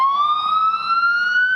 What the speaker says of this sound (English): pierced only by the sound of sirens